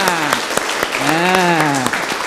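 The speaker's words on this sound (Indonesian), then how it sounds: "ayo tepuk tangan untuk SMP Arjuna." Audience applause for a junior high school (SMP) performance at a cultural event, a steady patter of clapping with a voice speaking over it throughout.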